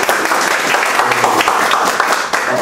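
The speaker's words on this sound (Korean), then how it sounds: "한 박수를 하셔야지" A church congregation claps together in a sustained, dense round of applause, steady and fairly loud throughout the short stretch.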